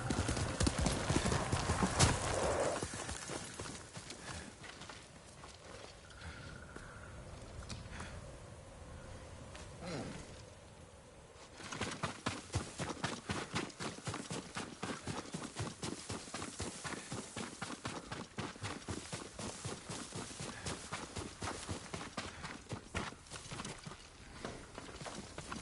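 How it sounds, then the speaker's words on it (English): Yuriko's horse clops along in Ghost of Tsushima, its hooves beating in a steady, even rhythm that fills the second half of the clip after a quieter, ambient stretch. "Yuriko's horse."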